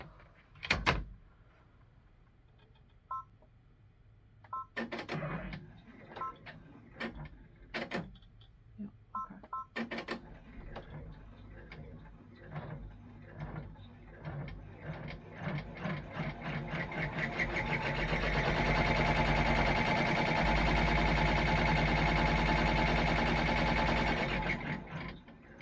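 An embroidery machine runs a placement line for a belt on a pilgrim paper towel holder cover: a few sharp clicks and knocks, then a steady rapid mechanical stitching chatter that grows louder and continues to the end.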